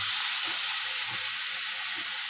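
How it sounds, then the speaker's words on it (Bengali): Hot oil for a pangas fish curry in mustard-oil gravy sizzles steadily as a little water is added, a close, continuous hiss with faint stirring bumps and no talk. "এখন আমি অল্প জল দিয়ে দিলাম"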